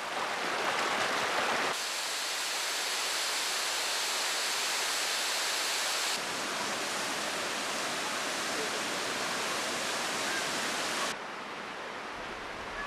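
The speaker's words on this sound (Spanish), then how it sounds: "Y es aquí de donde brotan las aguas termales más calientes que se conocen. A 60 grados caen de las cascadas." Hot spring waterfalls in Jordan, where water near 60 degrees pours down cascades, make a dense, steady, hissing roar of falling water that continues unbroken throughout.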